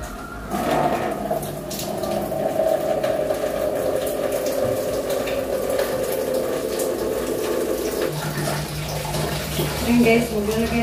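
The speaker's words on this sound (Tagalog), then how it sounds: "So, ilalagay na natin yung tubig." Water pours into a washing machine for laundry, a steady pump-like rushing flow with a low hum, continuous at moderate level, its tone shifting near the end; a voice is faintly present.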